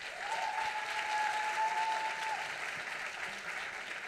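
An audience at a university awards ceremony for student sales projects applauds in a continuous, even round of clapping, with a faint steady tone hanging in the room and no speech.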